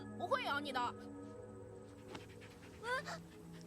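Puppies whimpering in an anime episode, short high whining cries in two brief bursts with soft panting between, faint under a low background hum.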